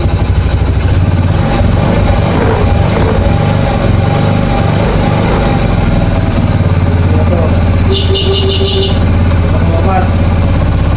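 Engine of a 2010 Suzuki Smash 115 motorcycle with a weak battery idles steadily and loudly close by, a constant low rumble throughout, with people talking over it and a brief high whine near the end.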